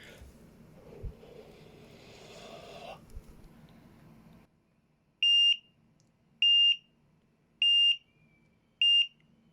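A CHNADKS portable multi-gas detector sounds its low-oxygen alarm: four loud, evenly spaced electronic beeps after a stretch of quieter handling noise.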